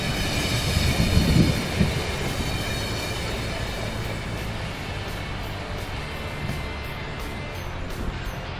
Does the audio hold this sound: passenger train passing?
yes